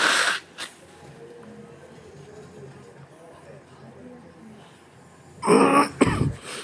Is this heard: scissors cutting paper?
no